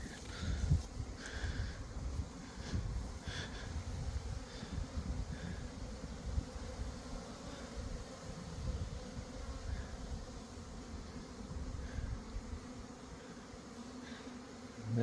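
Honey bees swarm around hives in an apiary with drones flying, a dense, continuous low buzz filling the air, with individual insects droning past nearby at a moderate, steady level.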